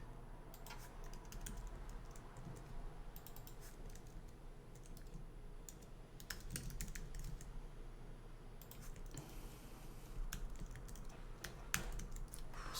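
Steady typing on a big computer keyboard, with continuous fast key clicks and occasional louder bursts of keystrokes running throughout, close and moderately loud over a low background hum.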